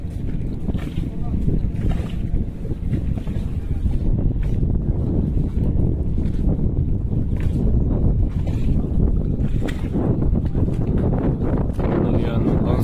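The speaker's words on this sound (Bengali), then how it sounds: "খুলনার উদ্দেশ্যে লঞ্চ এই মাত্র নলিয়ান ঘাট থেকে কিন্তু রওনা দিল" A passenger launch pulls away from Nalian ghat on the Shibsa River in Dakop, Khulna, heading for Khulna, its engine a steady low drone mixed with gusty wind buffeting and faint background voices.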